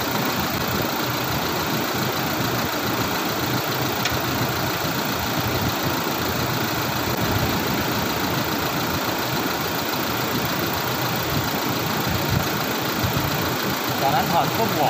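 Toyota Fortuner 2.8 engine idling steadily through a battery change, a continuous low rumble running evenly throughout with faint voices in the background.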